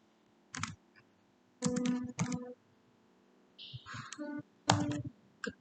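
Computer keyboard typing in short bursts of a few clicks with pauses between, close and clear against a quiet room, with a faint voice near the end.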